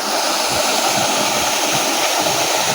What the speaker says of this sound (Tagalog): yung kanilang maliit at cute na talon